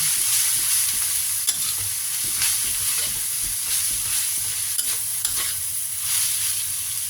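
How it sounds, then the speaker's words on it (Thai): Noodles being stir-fried in a pan with a splash of fish sauce, giving a steady, close sizzle with continuous scraping and stirring strokes and no talk. "ใส่น้ำปลานิดเดียวนะคะ ใส่ให้มีความหอม แล้วก็ผัดก่อน"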